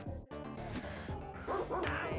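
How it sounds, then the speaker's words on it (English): Yapping dogs from a retro video game, several quick bow-wow barks and yips in a burst over game music, fairly loud and close. "Oh, these bloody dogs."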